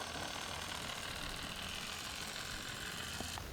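Electric motors on an Axial XR10 RC rock crawler whine steadily with all axles driven as it climbs up a rock, a continuous buzzing drone that cuts off near the end.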